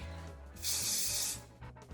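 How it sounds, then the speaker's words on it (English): Hairspray hissing from an aerosol can in one short, bright burst of about three-quarters of a second, close and clear, with quiet handling sounds before and after. "So now I'm going to take my hairspray, give it a good shake,"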